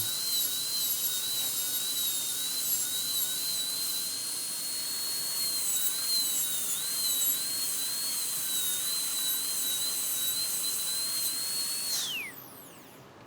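A high-pitched dental drill whines steadily for more than ten seconds while trimming the edge of a bovine collagen dental plug, close and continuous, then spins down near the end.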